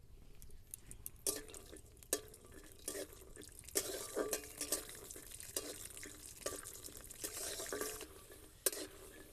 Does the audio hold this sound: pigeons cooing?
no